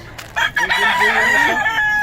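Chickens at a Bocaue poultry market, among them a Lemon or Boston hen: a loud rooster crow rises and holds with clucking around it, close and steady for about two seconds, no talk.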